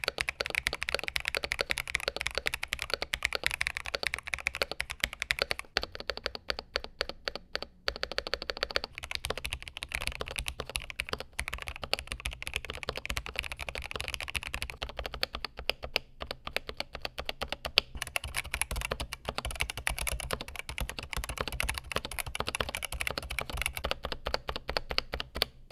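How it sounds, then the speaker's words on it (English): Continuous fast typing on a tape-modded, gasket-mount 75% mechanical keyboard with an FR4 plate, TX stabilizers, plate foam and a 1.6 mm PCB, a dense stream of close, muted, poppy keystrokes without pause. "it sounds exactly like what you would expect from what's probably the most common way people mod their keyboards"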